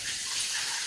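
Water runs steadily into a sink to rinse dyed Corriedale wool top, a continuous close gushing hiss with no pauses and no talk.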